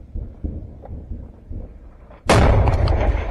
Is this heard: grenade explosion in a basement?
yes